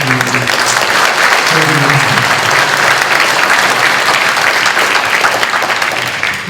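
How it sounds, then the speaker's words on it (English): Loud, sustained applause fills a hall at an annual town meeting, honoring candidates stepping forward; a voice briefly speaks under the clapping early on. "A big round of applause for all of those who are stepping forward"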